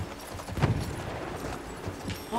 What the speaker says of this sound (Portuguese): Vou de cavalo.